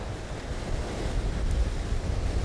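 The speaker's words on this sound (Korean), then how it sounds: "날씨가 워낙이 파도도 세고 거칠어서" Rough, heavy surf and ocean waves at a rocky shore at Cape Banks near Sydney, a continuous close roar with wind buffeting the microphone and no voices.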